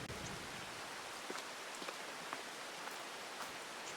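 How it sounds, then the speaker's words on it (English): Steady rain falls in Farming Simulator 22 on a dull October day, a continuous hiss of drops with occasional slightly louder patters and no talking. "Oh, and it's raining."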